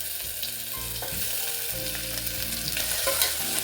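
Chopped tomato sizzles steadily in hot oil as a spoon stirs it, with occasional scraping knocks against the pan, while cooking spiced rice in a new pressure cooker.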